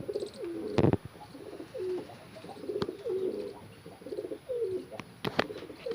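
Pigeons coo repeatedly in soft, rolling phrases at close range, kept in a loft where one chick has fallen ill, with a few sharp clacks and rustles breaking in between the calls.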